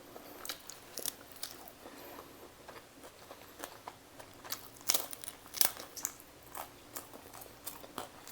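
Close, crisp crunching bites and chewing of very thin, crunchy Yellow Cab pizza, irregular and sharp, with no talking.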